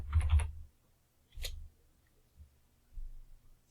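Sparse clicks of keys typed on a computer keyboard, a short burst of several taps, then single isolated clicks spaced about a second apart, close and faint with no talking.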